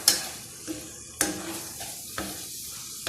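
Calamari sizzles in hot oil with onion and garlic in a pan for paella, a steady frying hiss broken by several sharp stirring scrapes and clatters, close and fairly loud with no talking.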